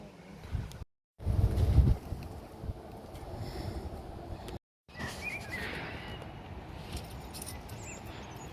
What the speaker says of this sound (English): It's up on the hill, quite windy, isn't it